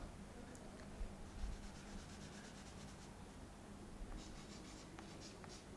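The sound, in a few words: writing on a board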